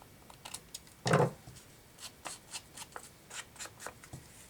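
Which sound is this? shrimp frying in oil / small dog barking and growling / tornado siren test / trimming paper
trimming paper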